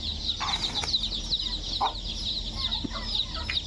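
Farmyard chickens give a few short, scattered clucks over a constant high buzz of insects, fairly close and not loud, with no talking.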